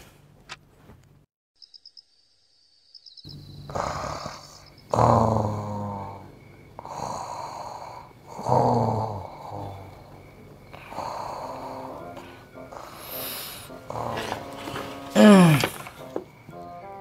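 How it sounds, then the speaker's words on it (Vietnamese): A man snores loudly at night in a room, with long rasping rumbles in a slow, uneven rhythm, broken by snorts and set against faint insect chirps. "Người gì mà gáy như bò vậy trời"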